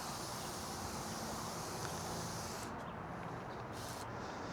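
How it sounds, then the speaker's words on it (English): A steady, close hiss of McKee's foaming rinseless wash being sprayed, continuous and even, with the highest part of the hiss briefly thinning out near the end. "So I'm going to go ahead and spray this one"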